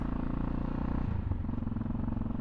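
A Yamaha XT660X supermoto motorcycle being ridden, its single-cylinder engine a steady, close, throbbing drone that shifts pitch slightly partway through, with no voices.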